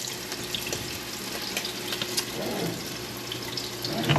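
Pan washed under running tap water at a kitchen sink in waterfront lodging, a steady soft splashing and trickling stream, close but fairly quiet, with light clinks.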